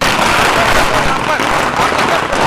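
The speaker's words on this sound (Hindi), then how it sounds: "इन लोगों ने इस दौरान जमकर आतिशबाजी भी की" Celebratory fireworks and firecrackers go off outside a mosque in Bandra, a dense, continuous crackle of overlapping pops and bursts with a noisy crowd and voices mixed underneath.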